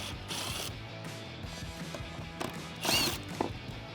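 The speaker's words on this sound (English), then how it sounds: "So using that 10 millimeter socket, I'm just going to remove the 2 bolts on top." A ratchet with a 10 millimeter socket loosens the bolts holding a license plate on a Jeep Gladiator, producing quick clicking bursts and metallic mechanical rattles, close and moderately loud.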